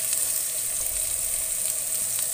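Carrots stir-fried in a pan with macaroni give off a steady, even sizzle with a bright hiss that holds throughout, and no voices are heard.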